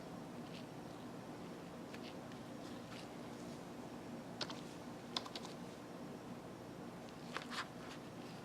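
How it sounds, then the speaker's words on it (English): Keys clatter on a Logitech K400 Plus wireless keyboard, quiet scattered taps and short bursts of presses at an irregular pace, close and soft against a faint background hiss. "Try the keyboard, all the buttons."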